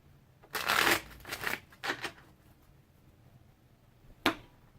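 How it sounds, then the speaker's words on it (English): A New Orleans Voodoo Tarot deck being shuffled by hand: a few quick riffling bursts in close succession, then a pause and one sharp final snap of cards, quiet and close with no talking. "One more shuffle."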